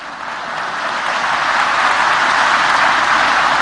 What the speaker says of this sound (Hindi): तो इस पे ताली बजाना तो जोर से बजाओ